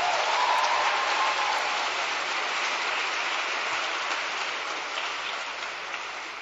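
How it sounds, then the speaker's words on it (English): An audience at an All School Day 2012 event gives a round of applause for Mr. Solomon, a steady dense wash of many hands clapping at moderate distance, fading slightly toward the end with no speech over it. "Can we hear a round of applause for him again?"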